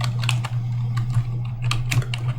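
Fingers tapping a computer keyboard in quick irregular bursts of clicks, close and clear over a steady low electrical hum, with no talking.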